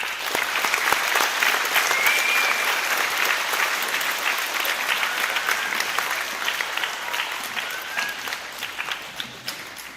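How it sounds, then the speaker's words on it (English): A school audience at a Veterans Day program gives a round of applause for a guest speaker, a dense, steady clapping that holds for the full ten seconds with no talking over it. "Let's give him a big round of applause."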